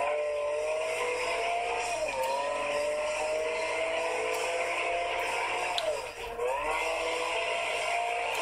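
A car engine in a racing video game drones steadily at high revs, with brief dips and rises as the car shifts or slows, loud and continuous throughout.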